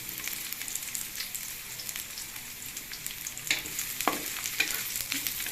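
Garlic sautés in a pan of oil, giving a steady close sizzle with a few stirring scrapes and clicks toward the end, with no voices.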